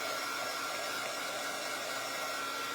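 A hair dryer blows steadily and close while drying a puppy's back, a continuous loud whooshing hum with no talking.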